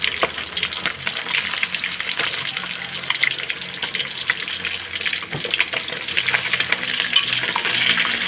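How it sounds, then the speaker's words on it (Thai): Fish frying in a pan in a home kitchen, a steady dense crackle with scattered sharper pops and faint clinks, running continuously throughout. "แม่ทอดปลา"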